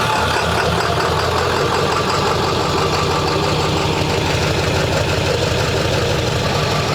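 The 6.0 engine of a turbocharged truck idles with a loud, rough, steady rumble, close by and unbroken for seven seconds, with a slight lift in pitch suggesting light revving.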